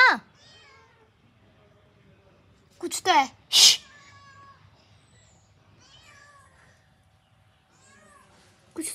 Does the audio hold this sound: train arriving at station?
no